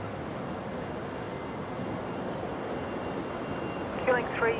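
An Air Canada Boeing 787 Dreamliner takes off from Brisbane International Airport, heard as a steady, distant broadband jet roar that holds evenly throughout with a couple of brief faint chirps near the end.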